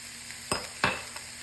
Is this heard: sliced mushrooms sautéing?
yes